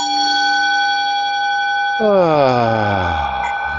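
A meditation gong rings with a sustained, shimmering metallic tone, then a fresh strike sends deep swelling overtones sweeping downward, loud and close.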